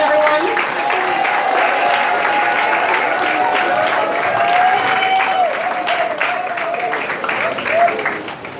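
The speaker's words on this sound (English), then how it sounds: "Give him a round of applause, everyone." An audience gives a round of applause to a Mayor's Award recipient honoured for community service: loud, continuous crowd clapping with a voice carrying over it throughout.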